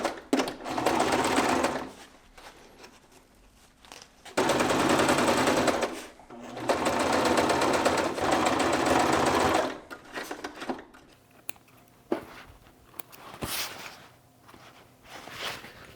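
Sewing machine stitching a quarter-inch seam on a four-way stretch hydration sleeve, running in three long whirring bursts with quiet pauses and handling rustles between them.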